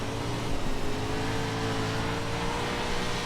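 A steady, droning 410 winged sprint car engine in the iRacing video game holds a constant high-pitched whine, continuous and fairly loud with no pauses, on a dirt track.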